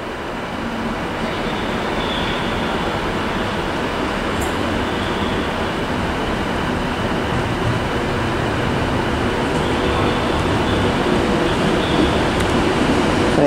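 Avanti West Coast Class 390 unit, the Glasgow Central to London Euston service, arriving at Carlisle station on the West Coast Main Line, a steady continuous rumble and rolling drone that holds loud throughout with no one talking.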